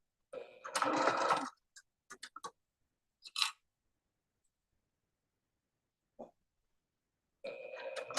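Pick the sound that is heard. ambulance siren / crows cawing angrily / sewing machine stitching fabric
sewing machine stitching fabric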